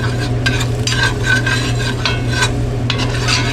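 Spicy breakfast burrito filling stirred in a frying pan, a spatula scraping in repeated strokes over a constant loud sizzle, close up with no talk.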